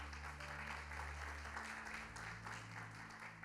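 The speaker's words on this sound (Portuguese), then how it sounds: "Uma salva de palmas para essa casa" A church congregation breaks into applause, a close, steady crackle of many hands clapping together, while a sustained low instrumental drone, likely organ or keyboard, holds underneath and shifts partway through.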